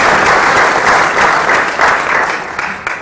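An audience applauds warmly at an evening event, a dense and loud patter of clapping that holds steady and then starts to thin near the end.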